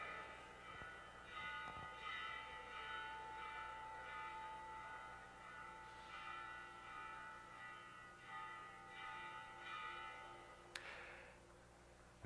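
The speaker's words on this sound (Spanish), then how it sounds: "Vamos a dejar que el cura deje de sonar la campana, está llamando a misa." A church bell rings to call people to mass, its faint metallic strokes with long humming overtones sounding at intervals over a steady background hum, distant and quiet with no talk.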